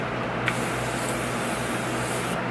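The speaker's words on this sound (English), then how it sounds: "I'm just gonna spray my face just in case my foundation doesn't come off" A steady hiss of makeup setting spray misted onto a face from a pump bottle close up, one continuous burst lasting a couple of seconds.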